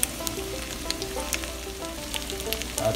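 Green onions sizzle in a hot pan with tofu, a steady, moderate frying hiss broken by small crackling pops and faint scraping of stirring, with no voices.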